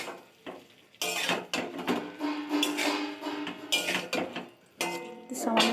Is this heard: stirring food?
yes